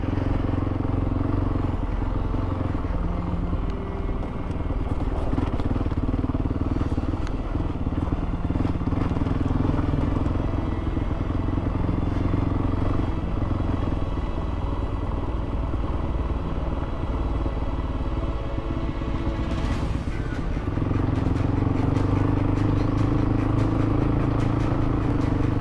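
A motorcycle engine drones steadily while the bike rides over rocks on a remote Kyrgyzstan trail, with clattering thumps and rattles layered over the continuous loud rumble throughout.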